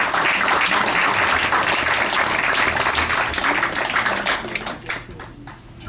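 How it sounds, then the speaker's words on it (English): Sustained audience applause at a public community meeting, a dense steady wash of clapping that holds loud and full before thinning and tapering off toward the end. "Could I have a round of applause for you?"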